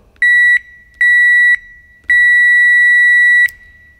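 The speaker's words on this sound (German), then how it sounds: "Und idealerweise sollten wir jetzt einen Piepston hören." Three sharp electronic beeps from a multimeter continuity test on a Vespa ignition coil, at a steady high pitch, the first two short and the last held longer, loud and close with no talking.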